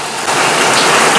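Heavy rain pours down in a steady, loud, dense hiss of drops that fills the short stretch without a break, and no voices are heard.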